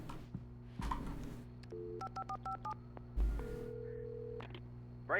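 Telephone keypad tones beep in a quick run of about six evenly spaced pulses on a phone in the Alan Wake video game, set against a low ambient hum with soft handling clicks before and after.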